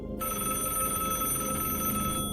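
A home telephone bell rings steadily and loudly, its bright ringing tone sustained and unbroken from just after the start to the end, with no voices.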